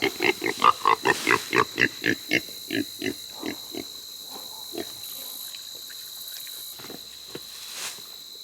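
Pigs grunt and chew willow scraps close by in a quick, steady rhythm that gradually slows and fades, with a faint high hum in the background.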